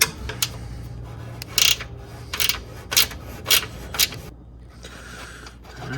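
A hand wrench works an 8 mm bolt off the bumper of an F250 pickup, giving a run of short scraping ratchet-like bursts in an uneven rhythm, close by, with no speech.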